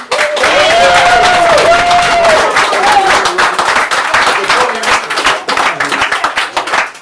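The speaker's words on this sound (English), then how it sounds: "So maybe we can start tonight by giving another round of applause to Carrie." Sustained audience applause at an open-mic night in a Limerick bar, dense clapping from a crowd that holds steady then thins out, with a few voices and a brief whistle early on.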